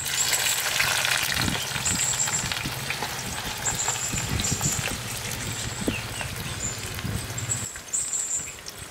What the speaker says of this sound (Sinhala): අපි දැන් පොලොස් ටික දාලා බැද ගමු